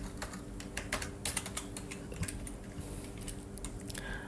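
Rapid typing on a computer keyboard while entering HTML code, an uneven run of close, crisp key clicks over a faint steady background hum, with no speech.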